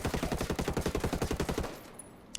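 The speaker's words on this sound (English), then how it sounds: "Let's fire one more shot group," Stock FAL rifle in Ghost Recon Wildlands video game firing a rapid burst of about twenty loud, evenly spaced shots over roughly one and a half seconds, then cutting off to a fading echo and quiet clinks.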